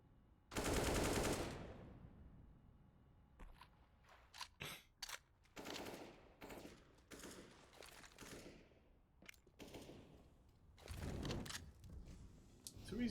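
MAC-10 submachine gun fire in a competitive CS:GO match, several rapid bursts of automatic shots, one long loud burst early and shorter bursts later, mixed with other in-game clatter.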